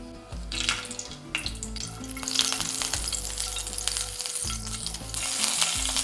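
Nigella seeds and a green chili frying in hot oil, a loud continuous sizzle and crackle, close up, with stirring scrapes throughout and no talk.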